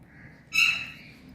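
A hand-tamed pet cockatiel gives one sharp, shrill call lasting about a quarter second, close and clear against a quiet room.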